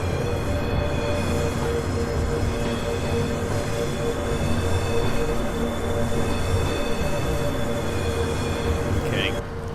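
Steady, continuous rolling rumble of a train leaving a station near Edinburgh in a train simulator game, with faint tonal hum and light rail noise throughout and a brief squeal near the end.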